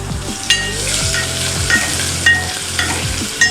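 Ginger sizzles in hot oil for kadhi, a dense crackling fry up close with a few sharp spatters and clinks of a spoon against the pan.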